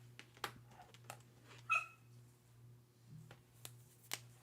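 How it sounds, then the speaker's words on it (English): A small dog gives a few short yips and a brief whimper, scattered over a quiet room with a low steady hum. "if you hear chirping or little barking, that would be one of the dogs."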